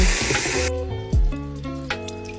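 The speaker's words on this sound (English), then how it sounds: "Once they're brown, add some water and steam." Water poured into a hot pan of browned tofu-filled dumplings, a loud hiss and splash at first, then quieter sizzling with a few knocks of the pan.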